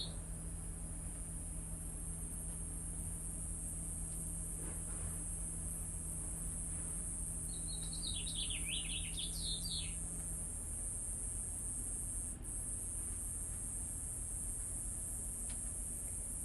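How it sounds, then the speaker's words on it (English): A steady high drone of insects fills the outdoors, with a short burst of bird chirps partway through, quiet and distant. "I'm not sure if you can hear all the birds and bugs"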